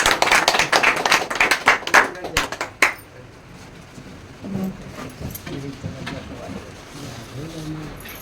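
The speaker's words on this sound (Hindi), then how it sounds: "तो एक बार जोरदार क्लैपिंग के साथ आपके सामने प्रस्तुत है। मतलब ताली बजाइए" Applause from a meeting audience of a network-marketing group, a burst of many hands clapping loudly for about three seconds before fading out into quieter room noise with faint talk.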